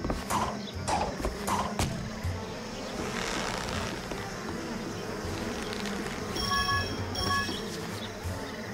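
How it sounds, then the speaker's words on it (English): Bees buzz steadily in Trine 2 as a continuous insect drone under game music and effects, with a few sharp tonal chimes near the end. "Bees."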